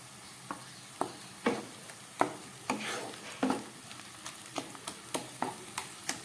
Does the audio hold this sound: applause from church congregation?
no